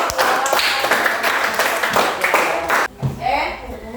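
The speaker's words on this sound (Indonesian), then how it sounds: "Baik, kita tepuk tangan kasih tepuk." A class of children claps hands together in a quick burst of applause, layered with talking voices, with a brief pause before a few scattered claps resume.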